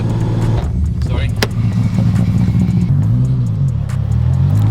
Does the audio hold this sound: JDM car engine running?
yes